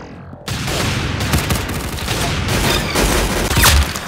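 Dense gunfire from a video game: rapid loud bursts of shots and booms that begin abruptly and continue as a near, steady barrage, with faint voices underneath.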